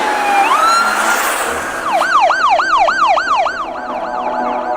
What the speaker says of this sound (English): This police and the ambulance are on the way to you.